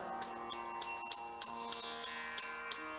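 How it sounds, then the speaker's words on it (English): A bell rung repeatedly at an evenly spaced, quick rhythm, each strike bright and ringing with a sustained metallic tone, close and clear with no talking. "Therefore, you get the bell."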